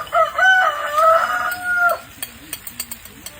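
Chickens cluck and a rooster crows nearby, a long rising crow of about two seconds followed by a handful of short sharp clucks, heard alone without talk.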